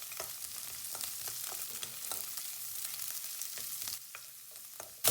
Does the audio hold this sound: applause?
no